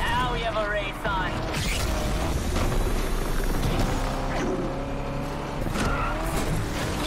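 Race cars roar through an NFS Unbound street race, engines revving hard with tire skids and squeals layered over a dense, continuous wash of road and mechanical noise.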